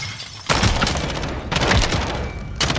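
In a shooter video game, a gun fires in three loud, close bursts of rapid shots separated by brief pauses, with the player controlling recoil.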